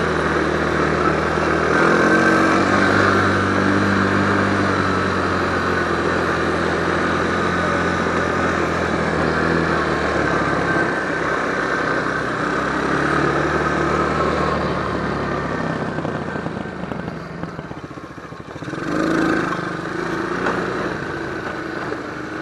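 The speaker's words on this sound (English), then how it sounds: "I got a brand new 125cc engine." A brand-new 125cc motorbike engine runs steadily while the bike rides through a deeper-than-expected puddle of water, a continuous close drone with sloshing wash, briefly dipping and surging near the end.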